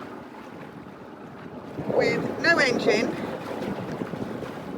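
Wind buffets a sailboat at sea in a tidal channel, its engine broken, making a steady rushing roar against the microphone with a short burst of speech in the middle.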